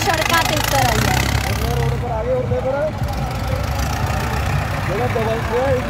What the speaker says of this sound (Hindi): ट्रैक्टर परेड शुरू हो चुकी है, सड़कां ते तुसीं इकट्ठ देख सकते हो